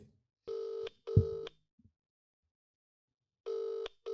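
An outgoing phone call rings in a quiet room, with steady, evenly spaced ringback tones repeating in pairs, plus a faint thump between them.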